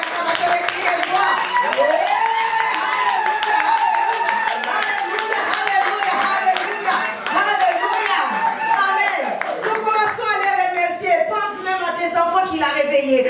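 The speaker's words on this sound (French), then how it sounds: "Quelqu'un peut acclamer très fort le Dieu que nous servons." A church congregation cheers, claps and shouts in praise during a pastoral couple's anniversary service, a loud, dense crowd roar with layered voices that stays steady throughout, with brief singing-like tones rising near the end.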